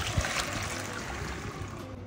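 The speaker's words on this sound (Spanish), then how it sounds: "ahora vamos a agregar el agua de las callampas que habíamos puesto a remojar" Water from soaked dried mushrooms poured into a risotto pan, a soft steady trickle and splash at moderate distance, heard alone.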